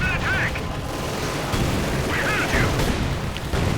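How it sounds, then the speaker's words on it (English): Mortar rounds fire in a World War II real-time strategy game, a series of dull booms and crackling impacts over a dense battle din with tank engines, while a commentator talks throughout. "Mortar rounds going in."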